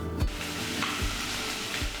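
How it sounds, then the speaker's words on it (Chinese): Chicken marinated in salt and turmeric powder fries in a hot wok, sizzling loudly and continuously up close, with a few spatula scrapes and stirs breaking through the crackle. "加入腌好的鸡肉煎香"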